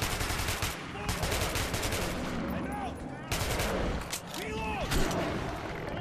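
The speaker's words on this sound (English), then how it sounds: "it's just unload 30 rounds of pure death at him" Rapid automatic gunfire in the video game Metro 2033 Redux, bursts of shots in close succession over a dense, noisy game soundscape with some faint background voice.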